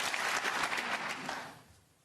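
A waterfront snooker crowd applauds Ronnie O'Sullivan's century break in his match against Lukas Kleckers, and the dense clapping thins and fades away after about a second and a half.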